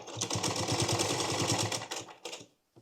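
Sewing machine stitching a blouse along its piping, a fast steady run of close needle strokes for about two seconds, then a short burst and a stop into near silence.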